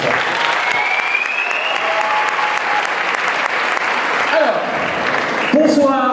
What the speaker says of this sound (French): des derniers applaudissements pour Oncle Fofi